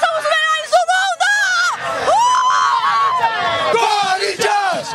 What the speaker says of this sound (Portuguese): Vamos acompanhar a festa da torcida do Corinthians.